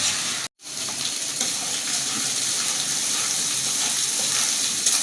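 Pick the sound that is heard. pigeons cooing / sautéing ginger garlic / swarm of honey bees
sautéing ginger garlic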